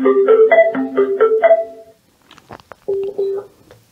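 A SUPNIU 60W portable Bluetooth speaker plays its power-on chime, a loud quick sequence of tonal beeps, then a short pause with faint handling clicks before two more closing tones.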